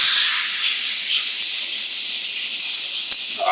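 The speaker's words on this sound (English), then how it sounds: "we'll just take this and pour it straight on the pan once it's been nice and well oiled." Argentinian churrasco steak sears in a well-oiled hot pan, giving a loud, steady high hiss of sizzling fat that holds evenly throughout, with no voices.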